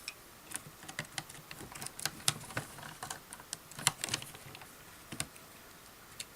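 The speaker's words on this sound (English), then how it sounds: "I can unscrew the screws" Screws being unscrewed from a Roomba vacuum during disassembly, light irregular clicks and ticks from the screwdriver, close and faint.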